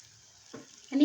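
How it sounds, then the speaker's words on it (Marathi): Hot water is poured into ground green peas in a hot pan. A brief close sizzle rises at the end after a short hiss. "आता हे मटार वाटले आहेत ना त्याच्यामध्ये मी गरम पाणी ओतते आहे"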